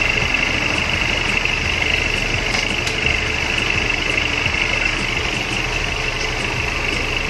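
Fuel-injected Honda Supra GTR motorcycle engine idling steadily at about 1600 rpm and then shifted into first gear, a constant close mechanical drone with faint ticking throughout, no talking.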